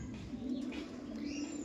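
Kala Sabuj pigeons coo softly in a loft, low rolling calls over a faint steady background, with a few higher chirps mixed in.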